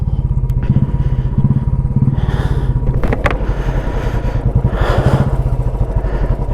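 A motorcycle climbing the high Baralacha La mountain pass, its engine thumping loudly and close in a steady pulsing beat, with revs rising and falling over clattering gravel.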